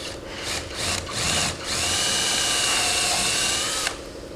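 A power drill whines steadily and close up for about four seconds as it upsizes a hole to 3/16 inch during a fuel tank retro kit installation, with brief dips at the start and no talking.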